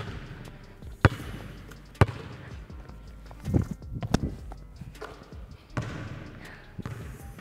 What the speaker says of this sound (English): Now, we're gonna move on to dribbling.